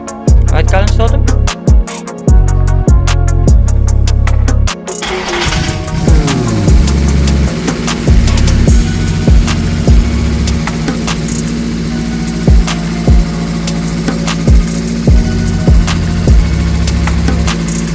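A VW Citi Golf engine cranks and fires, then settles into a steady idle with a rapid ticking clatter from noisy lifters, close and loud throughout.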